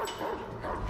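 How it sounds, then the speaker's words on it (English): A dog yips and barks inside a garage in the video game Need for Speed: The Run, heard over a dense bed of background music and game noise. "And a dog."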